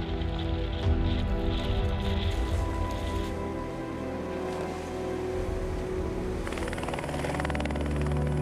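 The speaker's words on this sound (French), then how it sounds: "et après l'hélicoptère arrive" An arriving helicopter's steady rotor drone hums throughout, fairly loud and continuous, with a faint patter like rain over it, on a mountain road at the Col du Lautaret.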